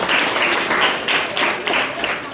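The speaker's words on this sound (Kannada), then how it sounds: "ನಮ್ಮ ಸಿಬ್ಬಂದಿಯವರಿಗೆ ಜೋರ ಚಪ್ಪಾಳೆ" Applause for the staff at a high school student parliament election event, with a crowd clapping steadily and loudly in repeated swelling bursts throughout.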